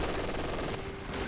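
A machine gun in Company of Heroes 2, set in the Essen Steelworks battle, rattles off a dense, continuous burst of rapid gunfire at steady volume with no pauses.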